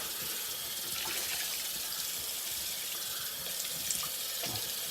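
Tap water runs steadily from a faucet into a sink for a cold towel rinse after a shave, a continuous close splashing gush with no talking.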